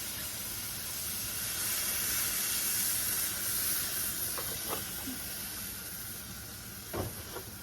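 Milk poured into hot sausage grease in a pan produces a steady broadband hiss and sizzle, fairly soft and even, with a few faint clinks near the end and no talk.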